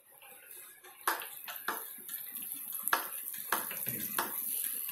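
Water sprays onto the substrate of a tarantula enclosure in a series of close hissing bursts with short pauses between them, over a low steady background and no talking.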